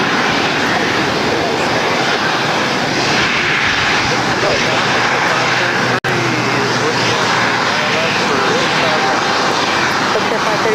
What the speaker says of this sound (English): That Bombardier coming in from Oakland now crossing over as well.